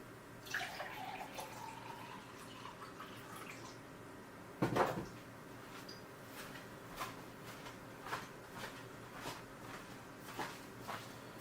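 Water runs from a kitchen tap at a low, steady level, with faint drips, clinks and a soft thud or two around it.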